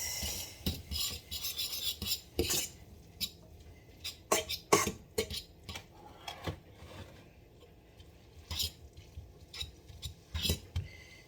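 Meat for lasagna is stirred with olive oil in a pan, giving intermittent scraping and rasping clicks of a utensil against the pan, close and irregular, with no talk.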